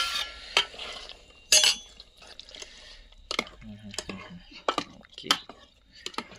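Marinated chicken is stirred into boiling gravy in a pot over a wood-fired stove, giving wet sloshing and scraping strokes with sharp clinks of a utensil on the pot, in irregular bursts; a voice briefly talks nearby.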